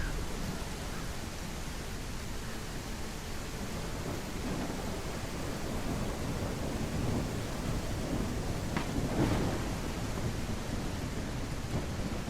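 Heavy rain pours steadily in a medieval city-builder game, a dense constant hiss with low thunder rumbling beneath and a brief louder crack near the end.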